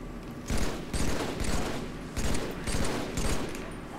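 Rapid bursts of gunfire in the Halo 3 video game, a loud close fusillade of repeated shots in several clustered volleys with brief pauses between them, no talking.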